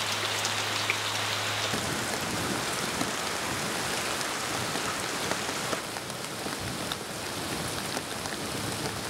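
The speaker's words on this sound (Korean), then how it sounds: "세찬 비가 그칠 줄을 모른다." Heavy monsoon rain pouring down steadily along the Naeseongcheon river, a loud unbroken wash of drops that drowns out all else, with a low hum briefly underneath at the start.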